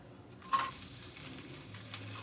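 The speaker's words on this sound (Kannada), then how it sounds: "ಎಣ್ಣೆ ಹಾಕಿದ್ಮೇಲೆ ಈರುಳ್ಳಿನ ಹಾಕೋತೀನಿ ಗೈಸ್." Onions go into oil in a pan with a quick crackling burst, settling into a soft steady frying hiss with light stirring noises, fairly quiet and free of talk.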